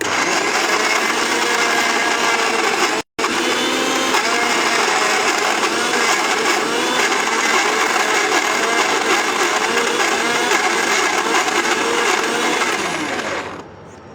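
Kitchen blender runs loudly and continuously for about thirteen seconds at close range, with one momentary cut near the start before it winds down at the end; no talking over it.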